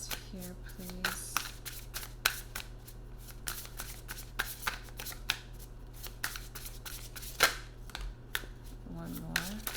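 Tarot cards are shuffled and drawn by hand in close, repeated riffles and soft slaps, with sharper snaps scattered through the shuffle.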